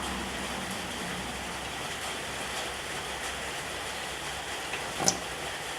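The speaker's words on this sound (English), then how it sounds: "so when the rain hits the roof, even if it's light, it sounds like a lot" Steady, dense patter of light rain on a tin shed roof, even and continuous, with a brief louder tap near the end.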